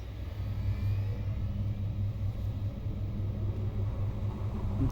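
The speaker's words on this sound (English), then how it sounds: "Start the engine." A car engine runs in the video game Moons of Madness, a steady low rumble with a slight rising rev toward the end, close and continuous with no talk.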